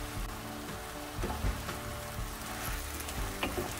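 Sliced sundae (Korean blood sausage) dropped into a hot stir-fry pan with green onion and hot chili peppers, giving a steady close sizzle and frying crackle with soft stirring bumps throughout.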